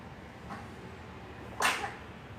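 A single small, sharp baby's sneeze bursts out near the end, preceded by a faint breathy intake, in an otherwise quiet room.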